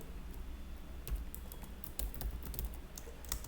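Fingers tap on a computer keyboard while entering Java code, a quick, steady patter of light keystrokes close up over a low background hum.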